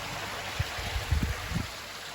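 Water from a pump return pours through jets into a pond, a steady hiss and gurgle with a few soft low sloshes heard up close.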